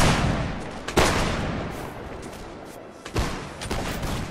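Musket volleys in a war video game crack out in two heavy bursts of massed gunfire, each with a long rolling decay, loud and close.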